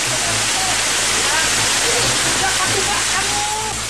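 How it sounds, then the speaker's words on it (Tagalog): A waterfall at the end of a long hiking trail pours in a dense, steady rushing roar, loud and continuous throughout. "Isang talon kung saan pwedeng mag-relax pagkatapos ng mahabang lakaran."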